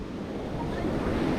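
Ocean waves surging, a low rumbling wash of surf with wind noise buffeting the microphone, steady and close for a short moment.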